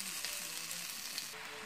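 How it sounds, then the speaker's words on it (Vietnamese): Bok choy stir-fries in a pot with a soft, steady sizzle and light crackle, fairly faint and without voices. "Mình thích ăn của cải thìa nên mình xào cải thìa."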